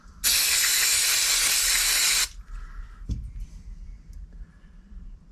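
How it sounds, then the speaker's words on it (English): A can of brake cleaner sprays on a reconditioned van brake caliper in one loud, close, two-second hissing blast, followed by a quiet workshop clunk and faint handling noises. "So we'll give this a clean up with the trusty old brake cleaner."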